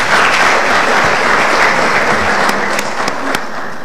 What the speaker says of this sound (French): je souhaiterais qu'on le félicite et qu'on l'applaudisse